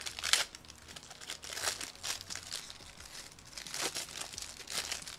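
Sheets of paper crumpled and handled close up in several bursts of crinkling and rustling, with brief pauses between handfuls.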